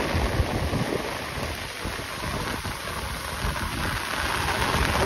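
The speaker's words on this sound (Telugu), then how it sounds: "అసలు సమ్మర్లో పడే వర్షమా మచా ఇది, ఒక రేంజ్లో తన్నుకొస్తుందంటే." Heavy summer downpour in a forest near Madanapalle, a dense continuous hiss of rain pounding foliage and ground, loud and steady throughout with some wind buffeting the microphone and no voices.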